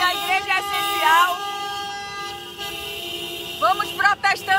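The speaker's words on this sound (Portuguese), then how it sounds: "E vamos buzinando." Car horns honk in a church motorcade, several sustained toots overlapping near and far, followed by shorter bursts of honking, with a voice speaking over them.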